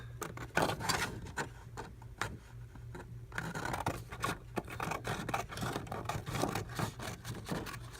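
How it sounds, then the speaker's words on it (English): Scissors snip through paper in a run of short, crisp cuts, close and fairly quiet, with a brief pause partway through before the snipping resumes. "so just go ahead and cut this"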